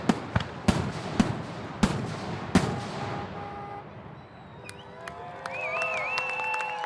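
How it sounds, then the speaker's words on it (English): A fireworks and cheering sound-effect cue opens with a rapid series of loud sharp bangs, then fades into a quieter bed of whistling, warbling tones and distant crackle. "throw in sound effects right now of cymbals and fireworks and cheering"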